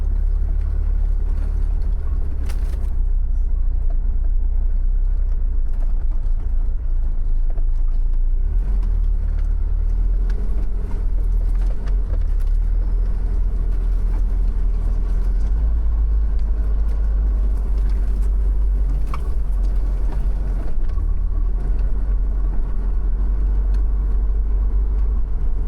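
An RV crawling down a rough, overgrown track toward a river, its engine giving a loud, continuous low rumble with occasional bumps and rattles throughout.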